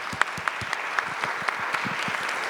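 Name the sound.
applause closing the panel sessions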